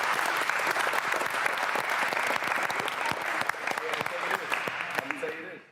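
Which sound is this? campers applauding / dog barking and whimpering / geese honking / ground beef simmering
campers applauding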